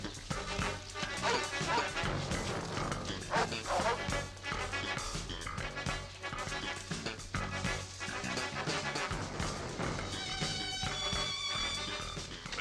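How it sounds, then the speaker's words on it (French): Several dogs barking and yipping close by, overlapping loud barks in an agitated run, with a voice briefly heard among them. "Des chiens."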